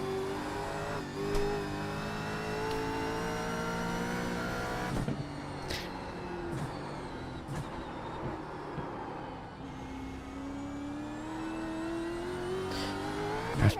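A TCR or V8 Supercar race car engine in iRacing at Bathurst drones steadily, its revs rising and falling through gear changes with brief shift blips and a continuous mechanical whine.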